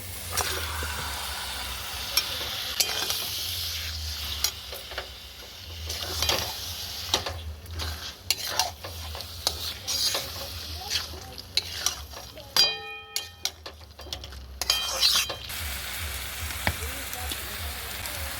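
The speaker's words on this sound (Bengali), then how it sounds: "এবার ম্যারিনেট করা মটনটা দিয়ে দেবো" Marinated mutton, seasoned with coriander powder and chili paste for a spicy Bengali-style kosha, sizzles and is stirred in a pan; a steady frying hiss with scraping stirs runs throughout, with a voice talking at times.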